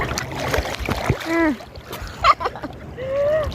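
Sea waves splash and wash at Bosowa Beach in Makassar, close and intermittent, with bursts of splashing from a swimmer mixed in.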